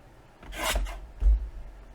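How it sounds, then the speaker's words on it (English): A blade or trimmer cuts a quarter inch off a paper folio piece, making a short rasping stroke followed by a softer scrape, close and brief. "I'm going to cut the same, like, 1/4 of an inch off."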